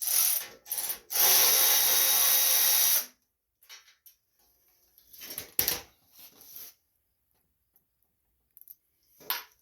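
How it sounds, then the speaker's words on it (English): Ratcheting 7/16 wrench or socket working bolts on the cover of a Gilson rear-tine garden tiller: a couple of quick ratchet bursts and then a sustained rapid clicking run, followed by scattered metallic clicks and handling noises, close by, no talking. "It's a 7/16 wrench or socket, whatever you want to use."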